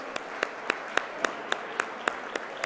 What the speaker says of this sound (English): All of you, big round of applause for all of us.